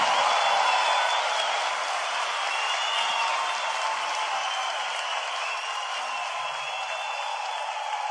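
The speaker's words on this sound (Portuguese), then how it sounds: "Uma salva de palmas" Applause from the audience at a live seresta music show, a dense, continuous patter of many hands clapping close by that stays loud and steady for several seconds.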